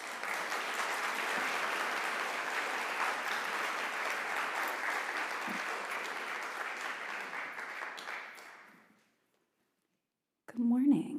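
An audience at a talk claps warmly for the incoming speaker, a dense steady applause that gradually fades out, then silence before a voice begins speaking.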